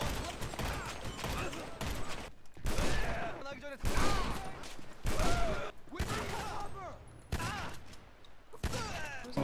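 Rapid pistol and SMG gunfire during a loud prison heist shootout in GTA V, dense bursts of shots repeating across the whole stretch with people talking over the action.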